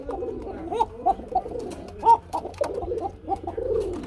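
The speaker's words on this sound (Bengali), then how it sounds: "কুকা কবুতর জোড়াটা ডাকতেছে" A pair of Koka pigeons coo in a steady run of soft, rolling, repeated calls, close and clear with little else around them.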